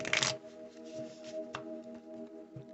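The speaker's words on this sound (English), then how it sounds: "I'm going to shuffle these." Tarot cards being shuffled by hand, a quick rapid riffle at the start followed by softer, intermittent card rustles, quiet and close.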